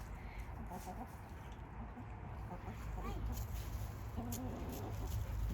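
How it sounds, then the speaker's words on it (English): Hens cluck softly in short bursts nearby amid general farmyard noise, while people talk over them. "that's a chicken"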